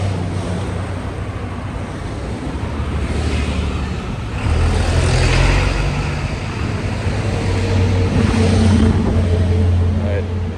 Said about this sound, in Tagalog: Alright, maraming sasakyan.